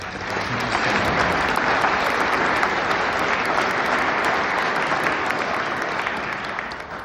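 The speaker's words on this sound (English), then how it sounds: "So please let's give them a round of applause." A large audience at a facility open house claps steadily for several seconds, a full, even roar of applause that swells early and fades slightly at the end.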